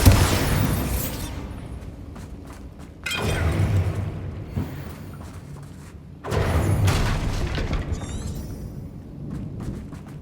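Bombarda explosion spells in the Hogwarts Legacy video game: three loud, booming blasts with shattering debris, each fading out before the next, spaced about three seconds apart.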